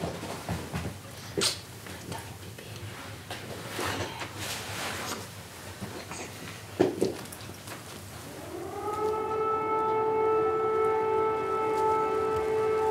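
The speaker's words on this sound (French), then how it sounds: "Ces sirènes, ça me fait peur." Air raid sirens in Ukraine rise and hold in a long, loud, steady wail that swells over the last few seconds, after a stretch of scattered sniffs, soft thumps and a dog's faint whimper.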